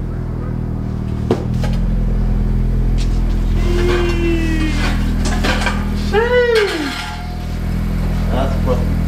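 A car fitted with new Whistler wheels idles and rumbles as it pulls slowly out of a garage, a loud steady low engine drone with brief squeaks and voices briefly audible on top.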